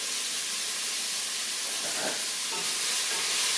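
Fresh vegetables for a homemade vegetable soup sizzle steadily as they brown in a pan, a continuous close hiss and crackle with a brief stir midway and no talking.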